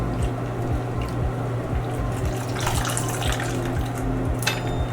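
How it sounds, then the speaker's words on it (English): A beaded decorative face mask being washed in a basin of water, with continuous sloshing and rubbing splashes close up, steady and fairly loud throughout, over a low rhythmic hum. "Try to wash the beads from outside of the mask."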